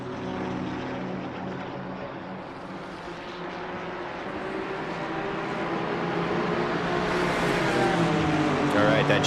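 GT3 and GT4 race cars lapping the Red Bull Ring, a steady engine drone heard from a distance that slowly swells and rises in pitch as the cars draw nearer, under continuous commentary.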